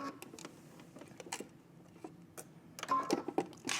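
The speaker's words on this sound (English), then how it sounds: "Now we're gonna go ahead and backstitch and continue." A domestic sewing machine backstitches and then carries on stitching a wrap dress seam. The faint, close mechanical ticking comes in scattered short bursts, with a longer, denser run of stitching near the end.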